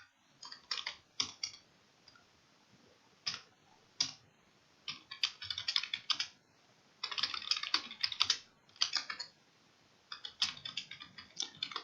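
Typing on a computer keyboard, quiet close bursts of quick key clicks with short pauses between groups, no talking.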